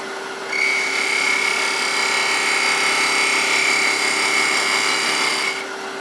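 A wood lathe spins a chess rook blank while a negative-rake tool cuts straight in to square the inner wall, giving a steady, close, high whirring scrape that holds evenly for about five seconds and then stops.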